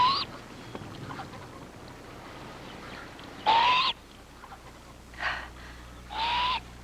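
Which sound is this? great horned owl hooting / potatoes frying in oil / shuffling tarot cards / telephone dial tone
great horned owl hooting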